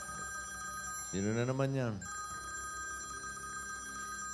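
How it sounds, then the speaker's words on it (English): A telephone rings continuously with a steady electronic trill, loud and near, as a voice briefly speaks over it partway through during a variety show segment. "Tumatawag yung telepono."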